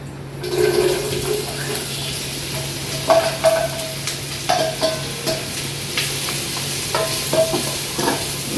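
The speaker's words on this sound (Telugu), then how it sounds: "ఉల్లిపాయలు వేగుతున్నప్పుడు" Onions fry in a pan for mushroom pulao, giving a steady, fairly loud sizzle broken by the intermittent scrapes and clinks of stirring.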